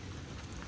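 Steady rain falls during a thunderstorm in Fayetteville, Georgia, a dense, even hiss of drops on surfaces that runs without a break through the whole brief moment, with no thunder or voices standing out.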